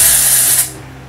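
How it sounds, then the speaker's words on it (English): A can of dry shampoo sprays onto hair in one loud, close hiss that cuts off sharply after about half a second, leaving a faint quiet tail. "do a few sprays in that area"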